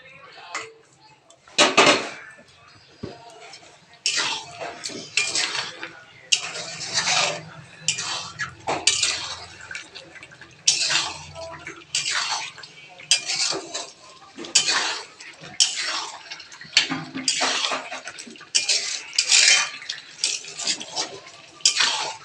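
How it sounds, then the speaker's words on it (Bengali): Chicken is stirred into a spice paste in a pot at home for chicken kurma. A spoon scrapes and clanks against the pot in repeated bursts, with a quiet sizzle underneath and some talking now and then. "আবার চিকেন দিয়ে ভালোভাবে কষাতে হবে।"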